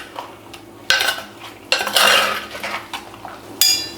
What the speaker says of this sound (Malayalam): എന്നിട്ടൊന്ന് മിക്സ് ചെയ്യാം.